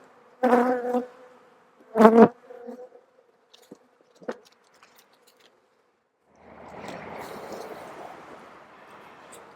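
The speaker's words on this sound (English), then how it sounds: "There's a box of bees." Honey bees in a hive box holding plenty of honey, heard as brief close buzzes and knocks at the start, then a softer sustained hum of activity toward the end.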